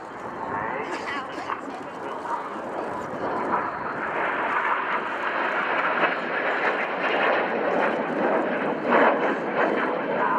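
A display aircraft roars overhead at an airshow while flying an inverted barrel roll, its engine noise loud, broad and continuous throughout, with a commentator talking over it.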